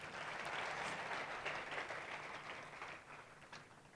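Audience applause at a religious lecture, a dense crackle of many clapping hands held at an even level before easing off slightly toward the end, moderately distant.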